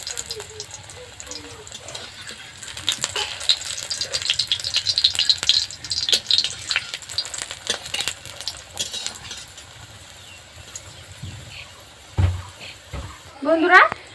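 Hand-rolled lachha paratha fries in hot oil in a pan, giving soft sizzling and crackling pops under a person talking, with a few sharper clattering sounds near the end.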